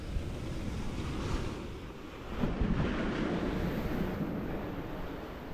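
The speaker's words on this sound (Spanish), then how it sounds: "Dan a la pared, las olas." Ocean waves wash against a wall at a beach in Playa del Carmen with sargassum seaweed, a steady surf roar mixed with wind buffeting the microphone and a slight swell midway, with no talking.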